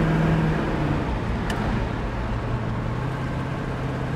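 A 1968 Chevrolet Camaro SS cruising on the road, a steady low engine drone and road rumble holding constant throughout with no talk.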